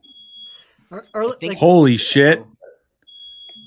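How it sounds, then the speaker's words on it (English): Electronic beeping like a smoke alarm: a high, steady tone sounds at the start, drops out while people talk loudly and excitedly, then returns at the end. "Who's beeping?"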